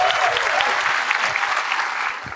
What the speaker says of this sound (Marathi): एकदा टाळ्या होत्या याच्यासाठी.